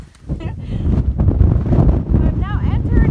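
Wind gusts rumble against the microphone on an exposed stretch of the Pacific Crest Trail through burn areas, a steady low roar after a brief quiet start, with faint birdlike chirps near the end.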